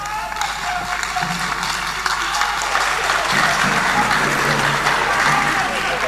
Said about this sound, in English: I can see that the women are clapping more than the men.